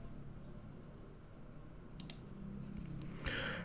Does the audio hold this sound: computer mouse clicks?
yes